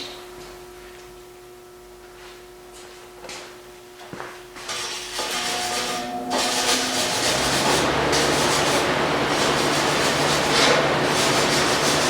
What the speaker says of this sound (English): I'll get my wire brush and clean it up just a little bit.